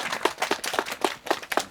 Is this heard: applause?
yes